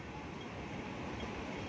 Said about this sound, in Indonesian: Dari kereta ini mau jalan